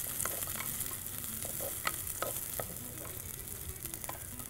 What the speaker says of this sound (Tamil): இது நல்லா வதக்கிடுறோம்.